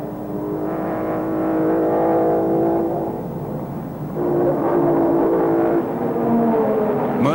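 Race cars of a 1955 motor race, a Talbot, MG, Bristol and Mercedes among them, roar steadily as engine tones rise and fall, with a dip midway before another loud surge, sustained and fairly close with no talk.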